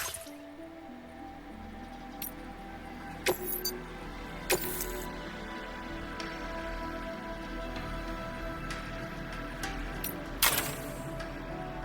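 A vehicle in the PS5 game Death Stranding 2 powers up with a steady low engine drone, joined by scattered clicks, a jangle and a few sharp mechanical taps. No one speaks.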